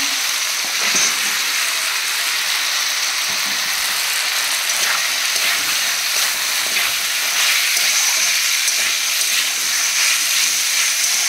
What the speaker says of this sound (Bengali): চিকেনটা ভাজা হয়ে গেলে এর মধ্যে আমি ক্যাপসিকামগুলো সব দিয়ে দেবো এখানে।